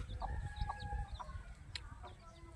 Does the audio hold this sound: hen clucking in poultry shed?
yes